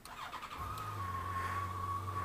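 A Yamaha FJR1300 motorcycle engine catches and settles into a steady low idle hum, nearby and moderately loud, with a faint whine over the running engine and no talk.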